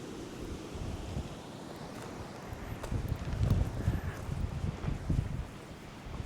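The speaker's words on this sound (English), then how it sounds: "We can hear the river." A river flows through the woods, a broad rushing wash of water under gusts of wind, with scuffing steps and movement nearby rising and falling throughout.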